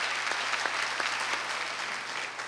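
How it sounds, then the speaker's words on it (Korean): Audience applause at a Korea University alumni choir festival, a steady dense wash of many hands clapping throughout, fairly faint and distant with no voices over it. "여러분 다시 한번 힘찬 박수로"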